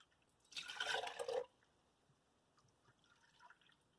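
About a second of juice splashing into a quart jar, faint and close, followed by a few soft drips and near silence.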